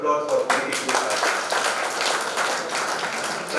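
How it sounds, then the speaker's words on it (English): Dense, steady applause from an audience at an inauguration ceremony fills the space, a broad wash of many hands clapping with no break throughout. "they very well deserve a very big round of applause for making this happen"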